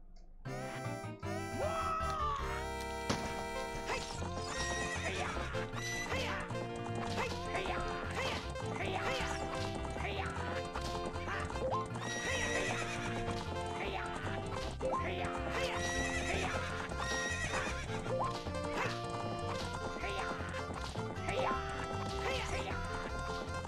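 A horse in Ocarina of Time neighs and its hooves clip-clop over a bright, busy game music track, with several whinnies scattered through a long stretch of steady sound.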